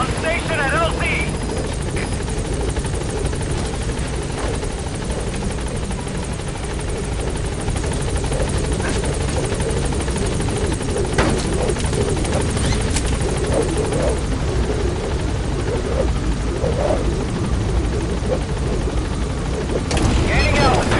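The Pequod helicopter in Metal Gear Solid V arrives with a continuous rotor roar throughout, loud and dense, with occasional sharp game effects cutting through the steady chopping drone.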